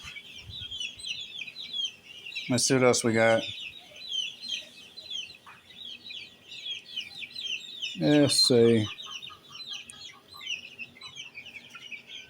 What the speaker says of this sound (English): They're just domestic chickens